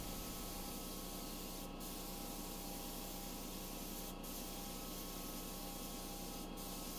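An Inokraft D1 LVLP spray gun sprays primer onto a piece of furniture, producing a steady, close, airy hiss that continues unbroken apart from three brief sharp flickers.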